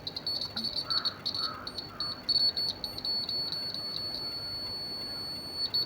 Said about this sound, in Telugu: మీకు బజర్ సౌండ్ వినపడుతుంది అనుకుంటున్నాను.